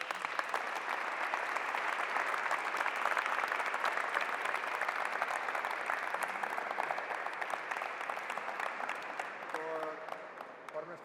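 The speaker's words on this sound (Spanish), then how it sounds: "vamos a darle por favor un aplauso" Sustained applause from a basketball clinic audience, steady and dense for the full length, with a few voices and cheers rising near the end.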